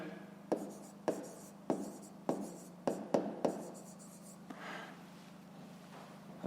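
A pen writes on paper while a fifth-grade math exercise is being worked, with about seven short, crisp scratching strokes in a loose rhythm, close and quiet, then faint rustling.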